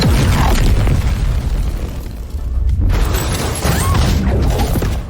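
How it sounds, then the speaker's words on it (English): A thrown secret weapon explodes with a loud, sustained blast and crashing debris, so close and heavy that it fills the whole stretch with rumbling noise and no voices. "the shockwave from the explosion caused an abandoned building to collapse"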